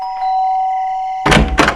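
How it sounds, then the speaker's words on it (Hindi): A doorbell at a house in a horror story: a sustained ringing chime tone, then two loud, close thuds as it cuts off. "मैंने डोरबेल बजाई।"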